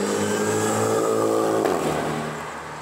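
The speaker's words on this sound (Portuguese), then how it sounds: "Olha, troca de marcha tá. A turbina do bicho tá soprando bonito, hein?" Turbocharged car on a city avenue revving hard, then a gear shift with a brief turbo blow-off hiss before the engine note drops, loud and steady and close by.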